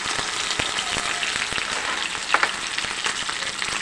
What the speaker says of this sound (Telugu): వేయించుకొని అది వేగుతుండగా కరివేపాకు జీడిపప్పు పేస్ట్